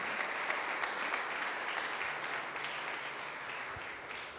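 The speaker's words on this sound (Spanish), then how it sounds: "Démosle un aplauso al Señor." A church congregation applauds together, a dense, sustained wash of clapping hands at a steady level throughout, heard from within the room with no voices standing out.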